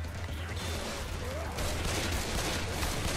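Guns fire on zombies in the co-op shooter Left 4 Dead 2. The dense, continuous barrage of shots blurs into a loud, noisy wash that swells partway through.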